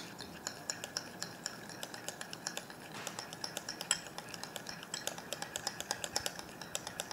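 A spoon stirs a thick homemade face pack of beetroot juice, aloe vera gel and coconut oil in a small bowl, giving a steady run of quick, light clicks and scrapes close by, with no talking.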